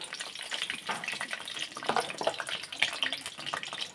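Pieces of eggplant fry in oil in a home kitchen while cooking a mustard hilsa dish, giving a steady, soft crackling sizzle with faint pops and no talk.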